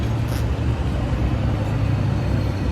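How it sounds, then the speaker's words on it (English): Late-night road traffic in Canada, a steady low rumble of cars passing nearby, their engine and tyre noise overlapping continuously. "Look at how many cars are passing."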